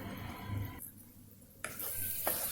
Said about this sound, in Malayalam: ഇനി ഇത് നന്നായി റോസ്റ്റ് ആവുന്ന വരേക്ക് നമ്മൾ മിക്സ് ചെയ്ത് കൊടുത്തുകൊണ്ടേ ഇരിക്കണം